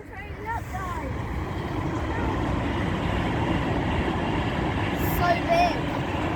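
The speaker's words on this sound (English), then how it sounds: "You can hear a train coming." Train rumbling toward a viaduct at a nature reserve, a steady broadband roar holding throughout as it approaches, fairly loud and continuous, with a brief higher whine or squeal near the end.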